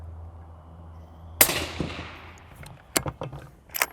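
One sharp, loud report from a rifle fitted with a Silencer Central Banish suppressor at a SHOT Show 2025 range, followed by a fading tail and several quieter distant shots afterward.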